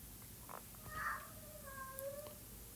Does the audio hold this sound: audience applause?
no